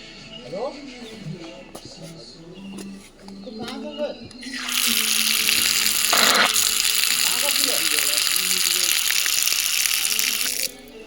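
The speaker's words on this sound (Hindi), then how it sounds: "ये यहाँ का पब्लिक नल है, देखते हैं कितना पानी आ रहा है इसमें" Water gushes strongly from a public tap at a market stop in Pauri Garhwal, Uttarakhand, a loud, steady rush that starts about halfway through and continues unbroken, following a stretch of people talking outdoors.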